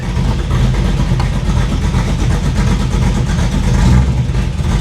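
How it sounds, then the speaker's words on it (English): A 500hp 1987 Chevy Monte Carlo SS idles up close, a loud, steady, rumbling engine note that lopes evenly with no talk over it. "I think I'm going to let it sit here and run for just a couple minutes"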